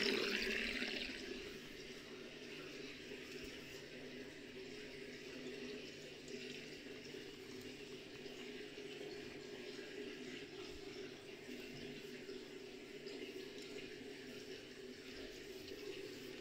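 Water draining out of a washing machine tub during a tub-cleaning cycle, a faint, steady flowing wash of liquid that is slightly louder at the start, with no one talking.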